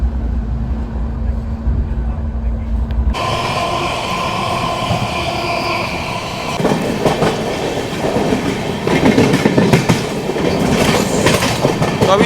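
Sairang Rajdhani Express train rolling along a loop line, a steady close rumble with rhythmic wheel clatter and rail noise that grows busier and louder partway through, no talk.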